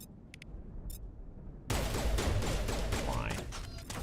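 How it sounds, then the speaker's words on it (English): Handgun shots in Mass Effect Legendary Edition, with a few faint clicks before a sudden loud, dense stretch of close firing and impacts. "my handgun doesn't seem to work that well"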